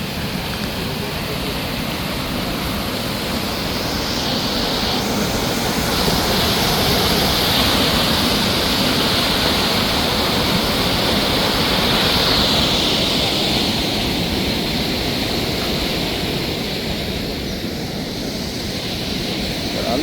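Water released through the opened sluice gates of the Iranamadu tank rushes over steps in a loud, continuous roar of churning flow that stays steady and close throughout, with faint voices barely audible beneath it.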